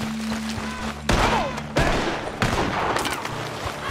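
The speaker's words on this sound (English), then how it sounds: "Gunshots are coming from that barn!" Rapid gunfire erupts in the Red Dead Redemption 2 video game, several loud sharp shots and a burst of firing close together, with game music and effects underneath.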